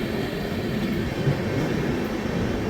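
Mahakaushal Express train rolling into small Majhgawan railway station, a steady, continuous low rumble of wheels and carriages, close and constant throughout with no voices.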